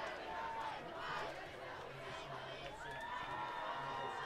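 A crowd at a high school football game cheers and shouts in a steady distant roar that stays faint and continuous throughout.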